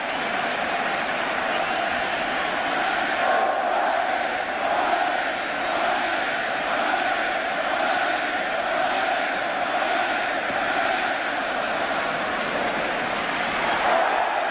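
Baseball stadium crowd at a Mariners ALCS game during a 12-3 blowout, a steady roar of cheering and noise from a packed stand that carries on throughout without letting up.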